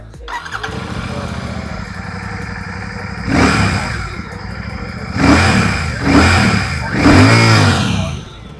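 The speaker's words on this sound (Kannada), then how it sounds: "ಅದಲ್ಲದೆ ನನಗೆ ಇಷ್ಟ ಆಗಿದ್ದು ಇನ್ನೊಂದು ಏನಂದರೆ ಈ ಬೈಕಿನ ಎಕ್ಸಾಸ್ಟ್ ನೋಟ್." A Royal Enfield 650 motorcycle idles with a deep, thumping exhaust note, then is revved sharply three times, each rev rising and falling back to idle.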